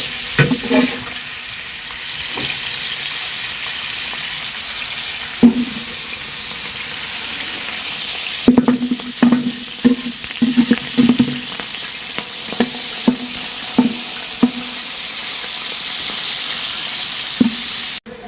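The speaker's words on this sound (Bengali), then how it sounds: "মুগরির মাংসটা ভেজে নিচ্ছি খুব সুন্দরভাবে" Chicken meat fries in a pan with a steady sizzle, broken by repeated stirring scrapes and knocks, loud and close with no talk.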